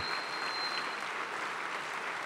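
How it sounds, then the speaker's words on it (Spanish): Churchgoers applaud in a congregation, a soft, even wash of clapping heard from a distance with no voices over it. "Más fuertes aplausos acá, caballero."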